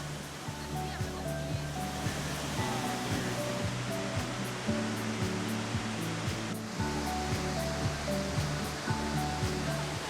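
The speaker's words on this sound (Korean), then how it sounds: "푸른 숲 사이로 계단처럼 내려오는 폭포의 물소리는 세상의 소란을 잠시 멈추게 합니다" Waterfall at Kuang Si Falls, water cascading in tiers through green forest, a steady broadband rush of falling water, continuous and fairly loud, with faint melodic music underneath.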